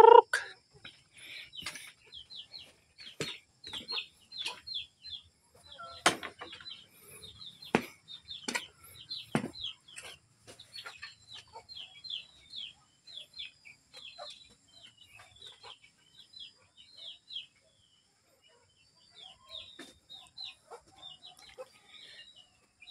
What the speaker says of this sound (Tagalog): Ayan yung mga manok mga idol.